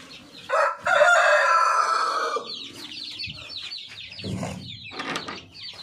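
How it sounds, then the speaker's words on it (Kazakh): A Brahma-breed rooster gives one loud, close crow that rises and holds before trailing off, followed by scattered soft clucks and brief rustling from the hens nearby. "Міне әтеш."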